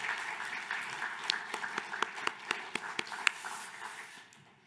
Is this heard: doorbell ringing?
no